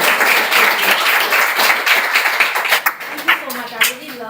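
Audience applause in a room, a steady dense wash of many hands clapping for several seconds, thinning toward the end as a voice begins speaking over the last scattered claps.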